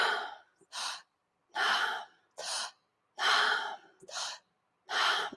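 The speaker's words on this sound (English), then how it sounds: "let's take a breath in. Exhale, we begin on the inhale" Deep, audible breaths during a yoga practice, a series of about eight strong inhales and exhales in a regular rhythm, close and clear with silence between each breath.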